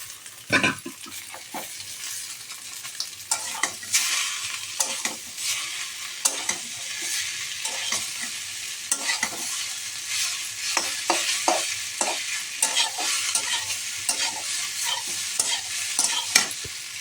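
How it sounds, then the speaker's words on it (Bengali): Boiled pasta is stir-fried in a pan with black pepper, with repeated scraping stirring strokes and rustles layered over a steady sizzle, fairly close and uneven in rhythm, with no talking. "এবার দেখো এর মধ্যে আমি পাস্তাগুলিকে দিয়ে দিচ্ছি"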